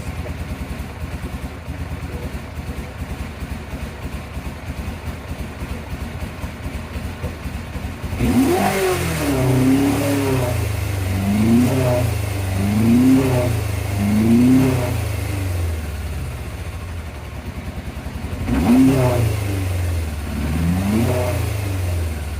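A 1987 Yamaha FZR 1000 Genesis sport bike, long unused and with its idle screw needing adjustment, rumbles at a rough idle and then is revved hard several times in quick succession. A final rev follows a pause, loud and close, with no talk.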